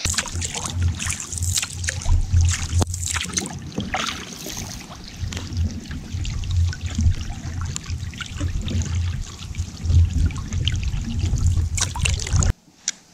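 A canoe paddled down a wide, calm river, with close water trickling and splashing in uneven strokes over a low steady background. The sound stops abruptly near the end.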